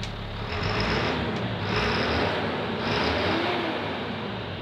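CAT 3126 7.2-litre diesel engine in a high-mileage bus idling, a steady, dense low rumble with a faint whine that swells slightly at regular intervals, close and continuous with no talking.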